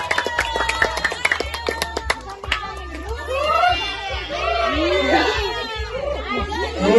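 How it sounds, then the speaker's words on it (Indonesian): Audience at an Indonesian comedy show event in Southwest Papua clapping and cheering, a burst of dense applause with crowd shouts and children's voices over a steady musical backing. "Beri aplaus dulu"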